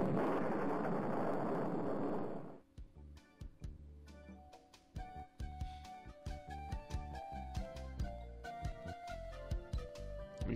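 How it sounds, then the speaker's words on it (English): In The Secret of Monkey Island, a cannon fires a person with one dense, loud blast that breaks off abruptly, followed by a string of quieter pops and clicks. "You know you're in a serious video game when shooting yourself with a cannon is a valid way of traveling"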